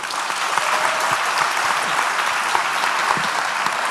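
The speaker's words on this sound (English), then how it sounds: "a round of applause to George" Conference attendees at the EURAXESS Biennial Conference 2024 give a brisk, even round of clapping that stays steady and fairly close for a few seconds.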